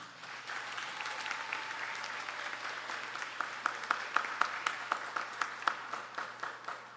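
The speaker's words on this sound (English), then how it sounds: "Please give an astonishing round of applause for the class for a job well done." Audience applause for a graduating secondary school class at a graduation ceremony, a soft wash of clapping that turns into sharper, more distinct claps toward the end, heard from a distance.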